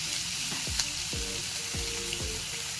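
Garlic, onion and radish sautéing in a pan for radish chutney, a steady sizzle with a few scraping stirs of a spatula, no voices.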